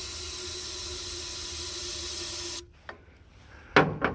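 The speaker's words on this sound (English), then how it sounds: "we're gonna spray a healthy dose right down the yap and see what happens here" Steady aerosol hiss sprayed into the intake of a John Deere B tractor that sat unused for many years, continuous for a few seconds and then cutting off, followed by faint clicks and a brief rustle.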